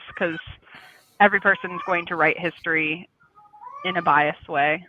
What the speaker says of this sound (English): I apologize for my cat.